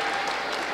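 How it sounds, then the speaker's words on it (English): Basketball crowd at the Mack arena roars and applauds in a brief, loud, dense burst of cheering with no gaps. "you can hear it from the crowd here at the Mack"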